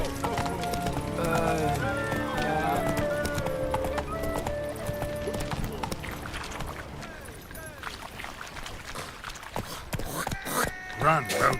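Horse Roach galloping in The Witcher 3, steady clip-clop hoofbeats running under game music with an occasional whinny, a voice talking over it.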